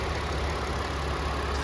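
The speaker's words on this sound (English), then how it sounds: "Good running V6 engine." A 3-liter V6 engine in a 2011 Ford Fusion SE idles steadily with the hood open, a smooth, even hum that is close up and continuous with no talk over it.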